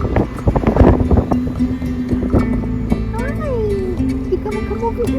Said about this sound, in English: The wind is just picking up even more.